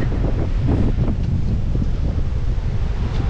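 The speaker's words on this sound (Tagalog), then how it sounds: "Sobrang lakas ng hangin." Strong coastal wind at Pagudpud, Ilocos Norte, buffeting the microphone in a loud, low, continuous roar, with no speech.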